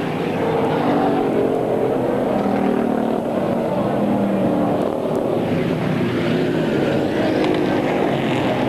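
Race cars in a local division event at Airborne Raceway roar around the oval in a steady, loud engine drone that swells and fades as the pack circles, with a public-address commentator talking over the noise.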